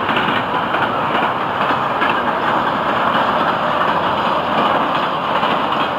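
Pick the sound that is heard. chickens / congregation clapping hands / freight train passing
freight train passing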